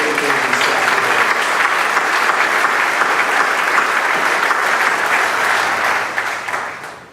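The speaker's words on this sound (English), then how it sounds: "if we could all give a round of applause for all of the educators and staff" A sustained round of audience applause at a middle-high school ribbon-cutting ceremony honoring educators and staff: dense, loud clapping that holds steady for several seconds before tapering off at the end.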